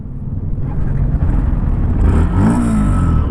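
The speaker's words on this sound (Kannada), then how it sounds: "ಎಕ್ಸಾಸ್ಟ್ ಈ ಥರ ಕೇಳಿಸುತ್ತೆ" The exhaust of a 2024 Yamaha FZS V4 DLX fuel-injected motorcycle rumbles close by, rising as the engine revs up and then holding a loud, steady note.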